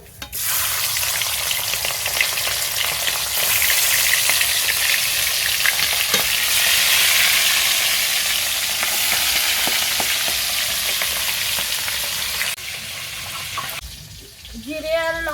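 Hilsa fish heads fry in hot oil with a loud, dense, continuous sizzle that swells midway, then gives way to brief running water near the end.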